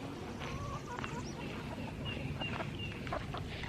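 Free-range chickens near a tree cluck softly and intermittently at a moderate distance, set against steady outdoor background noise on a farm with a hoophouse.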